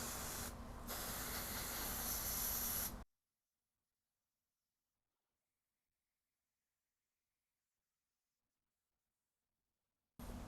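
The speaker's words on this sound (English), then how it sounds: "I'm just gonna use my spray since I have it here." A handheld spray bottle mists water onto a houseplant in a close, steady hiss lasting about three seconds, then stops to silence before a brief new burst starts at the very end.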